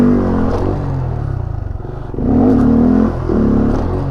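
A stunt motorcycle idles and revs alone on an empty lot, its engine note swelling and dropping in uneven bursts, loud and close with a steady throbbing drone between the revs.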